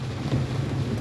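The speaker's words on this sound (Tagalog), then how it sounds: "malakas na yung ulan mga sama." Heavy rain pours down during Typhoon Odette in Lapu-Lapu City, a dense continuous hiss with a low rumble of thunder or wind beneath, brief and steady.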